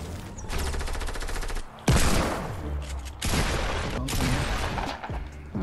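Pump shotgun in a shooter video game, the green pump, firing several loud, heavy blasts in succession, with one especially sharp boom partway through and a dense, close burst of other gunfire surrounding it.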